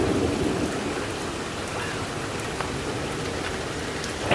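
Heavy rain pours steadily near Pittsburgh, Pennsylvania, during a violent May thunderstorm, a dense, loud hiss throughout with faint rumbling underneath.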